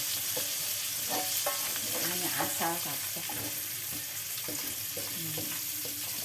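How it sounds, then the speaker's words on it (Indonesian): Food frying in a pan for Indonesian home cooking: a steady, loud sizzle with clinks and scrapes of stirring throughout, and someone speaking briefly over it. "Kita goreng tidak usah kering-kering ya pemirsa"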